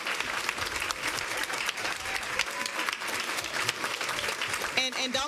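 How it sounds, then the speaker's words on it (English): A round of applause at a Metro Nashville Public Schools Board of Education meeting, steady clapping from an indoor audience that holds for several seconds, with some voices mixed in. "Let's give Kelly Carey a round of applause."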